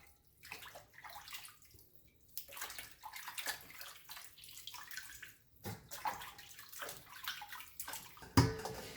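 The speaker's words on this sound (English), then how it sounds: "So rinse each feet carefully and just squeeze out the water." Chicken feet are rinsed under running water, quiet uneven splashing and sloshing in bursts, alone without talk.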